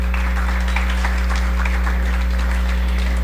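A room of people claps in a dense, continuous round at the Biblioteca Nacional Aruba gathering, moderately loud, over a persistent mains hum.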